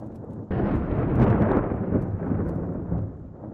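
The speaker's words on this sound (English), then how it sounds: "Oh wow, it's a real thunderstorm going out." Thunder from a storm in the WorldBox sandbox game cracks in suddenly and rolls on as a loud, sustained rumble with rain-like hiss, no talking over it.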